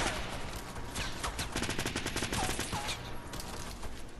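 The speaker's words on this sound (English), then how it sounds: "Okay, there's a lot of shots here, dude." Dense, rapid gunfire from the Fortnite battle royale video game crackles almost nonstop, with many overlapping shots at a steady, loud level throughout.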